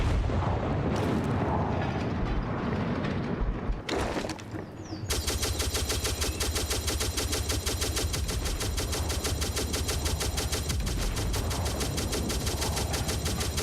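Howitzer artillery in the Bee Island video game booms and fires in rapid, relentless volleys, loud and dense. A short pause near the start breaks the barrage before it resumes without letup.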